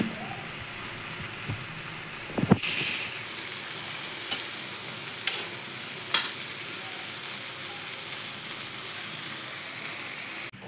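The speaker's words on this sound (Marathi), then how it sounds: "कांदा भाजायला टाकला आहे तेल टाकून भरपूर कांदा असल्यामुळे थोडासा वेळ लागतो कांदा भाजायला" Onions frying in plenty of oil in a pan, giving a steady close hiss of sizzling, with a brief clatter of stirring early on and a few faint clicks.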